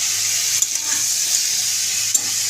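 Food frying in a pan while being stirred, a steady close sizzle and hiss with a couple of soft scrapes of the spoon, no voices.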